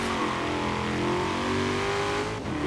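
A Shelby GT350R's flat-crank V8 revs hard in Forza Horizon 3, a loud, continuous engine roar that climbs steadily in pitch over a few seconds, then briefly dips as if shifting.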